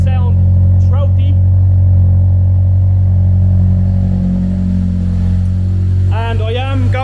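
A K20 engine-swapped Honda Civic idles loudly with no silencer, a deep throaty drone filling the clip close up while someone talks over it.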